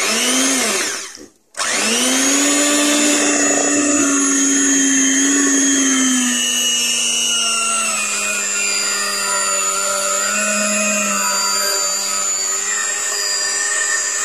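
Electric mixer beating pukis cake batter as coconut milk is added, a loud steady whirring drone at low speed that cuts out briefly near the start, then runs on continuously without talk.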